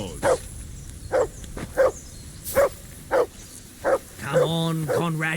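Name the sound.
dog barking, from the video game Kingdom Come Deliverance II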